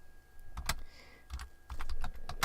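Computer keyboard typing comes in short bursts of crisp clicks, a few quick keystrokes, a pause, then a denser run, close and fairly quiet with no speech.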